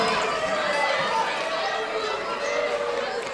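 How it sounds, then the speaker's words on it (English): Steady roar of a home crowd in a gym at a women's college basketball championship game in Dillon, Montana, a dense continuous chatter and cheering held at even loudness under the whole stretch. "Loud crowd tonight here in Dillon, Montana."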